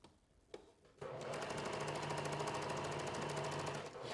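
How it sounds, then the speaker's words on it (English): A domestic sewing machine stitches fabric for a top's flutter sleeves, starting with a short burst and then running in a steady, fast, evenly pulsing drone at close range for several seconds before slowing near the end. "Lock in your stitches at the end, of course."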